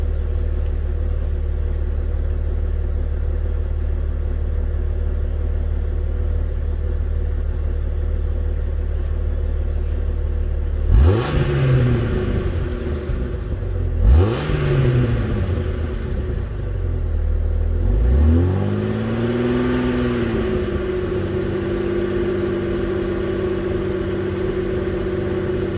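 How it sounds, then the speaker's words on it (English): Jeep Grand Cherokee WJ with a Flowmaster 40 series exhaust, recorded from above near the tailpipe: a steady deep idle broken by three loud revs that rise and fall, the last one held a little longer. "I'm going to rev it up a little bit just so you guys can hear it."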